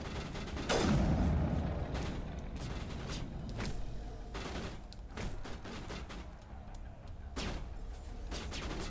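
Faint Avenger assault rifle gunfire in Mass Effect Legendary Edition sounds as repeated short bursts, with a stronger burst near the start and distant crackling continuing behind.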